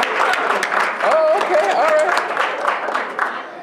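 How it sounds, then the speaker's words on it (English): Audience applause at a Board of Education business meeting, a dense patter of many hands mixed with crowd chatter and a few voices speaking over it. "Let's give her a round of applause."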